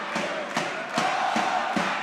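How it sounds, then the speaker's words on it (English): Manchester crowd at an under-18 men's basketball semi-final, a dense roar of fans with rhythmic chanting or stamping pulses about every half second, loud and sustained. "The Manchester crowd's getting loud."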